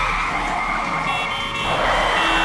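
Continuous wailing sirens fill a Shibuya street scene in the video game 428 Shibuya Scramble, loud and close, blending with a dense wash of traffic, street noise and shouts.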